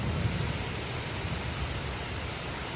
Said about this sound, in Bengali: ওয়েদারের অবস্থাটা দেখো, মুষলধারে বৃষ্টি পড়ছে